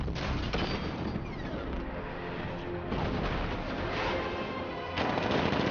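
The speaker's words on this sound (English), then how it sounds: "60mm cannon operational." A 60mm cannon fires in Batman Arkham Knight, a dense continuous barrage of heavy blasts and rattling impacts that stays loud throughout with no pauses.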